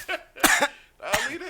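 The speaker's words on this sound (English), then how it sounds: "for people that's not here, I'm not just coughing." Three harsh coughing bursts from a man who has just hit a blunt, loud and close, with short gaps between fits and no speech.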